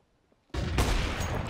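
Gunfire in a competitive first-person shooter match erupts suddenly after near silence, a loud burst of rapid shots continuing to the end.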